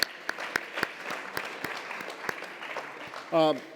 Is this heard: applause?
yes